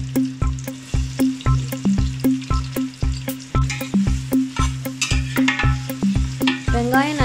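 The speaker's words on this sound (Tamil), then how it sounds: "வெங்காயம் நல்லா வதங்குறதுக்காக நம்ம இதில் உப்பு ஆட் பண்ணிக்கலாம்." Onions frying in oil in a pressure cooker for mutton biryani are scraped with a spoon in a regular, repeated knocking rhythm over a continuous sizzle, loud and close, with no talking.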